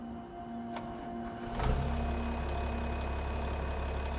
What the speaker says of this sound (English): Hey, I'm going to use this tractor actually.